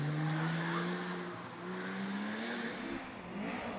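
A Porsche rally car on a historic rally stage accelerates hard, its engine revving and rising in pitch while the wheels struggle for grip, a steady strained drone heard from fairly close.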